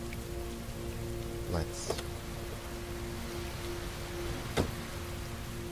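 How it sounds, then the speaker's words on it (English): Steady rain from the video game Heavy Rain patters evenly throughout, with a few brief sharper splashes and a short voice speaking over it. "despite this game's title, the rain effects are just like, wow"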